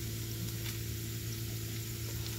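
Butter sizzling in a hot skillet before eggs go in, a steady, even crackle that holds at a constant level throughout with no voices.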